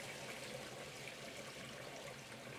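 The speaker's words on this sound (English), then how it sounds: "Spin the rice, spin the water through it." Water running and swishing through rice being rinsed and spun in a bowl, a steady, soft stream with no talk.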